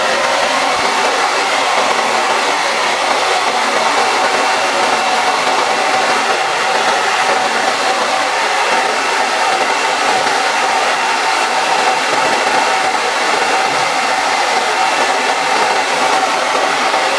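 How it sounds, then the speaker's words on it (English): A hair dryer blows loudly and steadily, a constant airy roar with a whining motor that never changes over the whole stretch. "You could use a hair dryer to kind of smoothen those"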